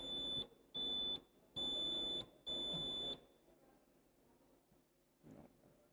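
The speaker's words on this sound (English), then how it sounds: "we're going to test the buzzers, starting with Monique." Quiz competition buzzers at a Teachers' Colleges of Jamaica semifinal sound one after another in a quiet hall: four loud, steady electronic tones of about half a second to a second each, separated by short gaps, then faint room noise and a soft knock.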